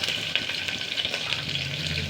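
Green chilies and onion sizzle in hot oil already crackling with cumin and mustard seeds for dal khichdi, a steady close frying hiss with small pops throughout.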